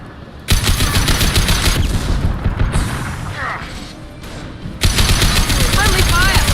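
Gunfire in Mass Effect 2 Legendary Edition, loud sustained automatic bursts with a brief lull and booming impacts before the shooting resumes, close and dominant, with a voice calling out amid the fight.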